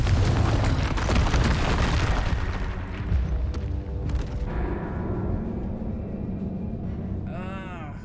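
A Confringo spell blast in the Hogwarts Legacy video game lands as a heavy, booming explosion that rumbles and fades over several seconds, followed by quieter game effects and a brief rising whoosh.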